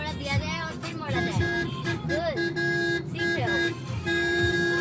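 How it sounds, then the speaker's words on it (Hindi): Car horn sounded repeatedly on a zigzag mountain road toward Lansdowne: several short, close honks in an uneven series under engine noise and interior hum, with people talking. "और हॉर्न थोड़ा दिया जाए और फिर मोड़ा"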